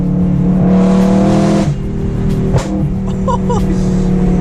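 A BMW M3 engine roars loud and close during a canyon run, a steady high-revving drone that eases off around the midpoint, followed by quieter idling and a few short higher tones.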